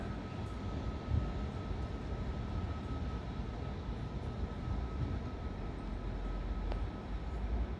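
A Trenitalia regional train pulls into Firenze Rifredi station with a steady low rumble and rolling wheel noise, a thin tonal whine running above it. The sound holds at an even, moderately loud level throughout, and no one speaks.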